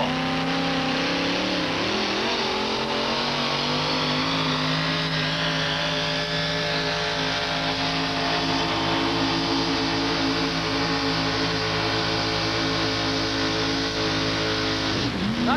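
A competition pull truck engine at a 1987 USHRA event in Buffalo revs loud and sustained, a heavy droning roar with rising and falling pitch near the start, then holding steady throughout.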